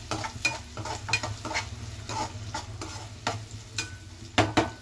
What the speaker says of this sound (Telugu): ఉల్లిపాయలు కొంచెం బ్రౌన్ కలర్ వచ్చేలాగా వేపుకోవాలి.